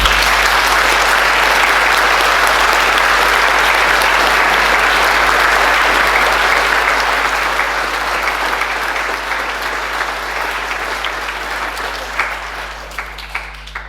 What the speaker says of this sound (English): So I'd just like to ask we all a round of applause for all the committee members, volunteers that have helped out towards this concert.